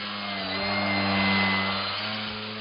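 Model aircraft motor droning steadily with a buzzing tonal whine as the throttle is eased up and down during basic flight maneuvers, the pitch and loudness swelling and then easing back off.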